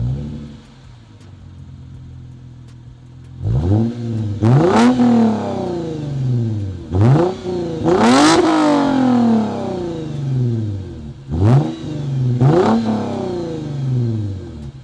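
A Lexus IS350 F-Sport with a muffler delete and dual-tip exhaust is revved hard in repeated bursts, each rising to a raspy, loud peak and falling back to a rumbling idle, close up with no talking.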